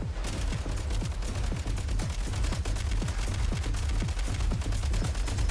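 Rapid, dense automatic gunfire from enemy shadow soldiers in a first-person shooter game, sustained bursts of sharp shots close and loud throughout, with no talk.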